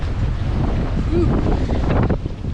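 Strong gusty wind buffets the microphone aboard a sailboat under sail in the North Channel, a steady loud roar with swelling gusts and water noise beneath, and a voice speaks briefly over it.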